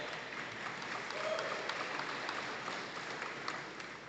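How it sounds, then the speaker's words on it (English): Applause for Coach Barry Lunny Sr. at the 2024 BHS Hall of Honor ceremony: a steady, moderately loud patter of many hands clapping in a hall, continuous across the whole stretch with a faint crowd murmur beneath. "Let's please give Coach Lunny a big round of applause."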